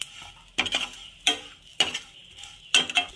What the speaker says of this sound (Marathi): आता मी हे थोडं जिरं टाकत आहे, हे पण परतवून घेत आहे